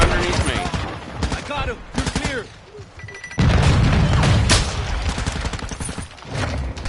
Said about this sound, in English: Throw a stun grenade.